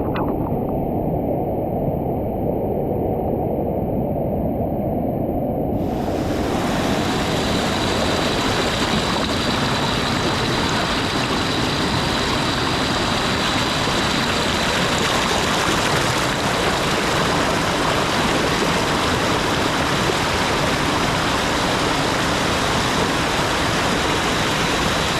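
Clear mountain stream water rushes steadily over rocks near the Seven Sisters waterfall in Cherrapunji, Meghalaya, a loud, unbroken roar filling the whole stretch with no voices.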